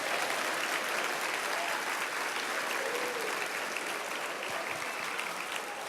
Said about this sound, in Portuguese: e aplauda ao Senhor Jesus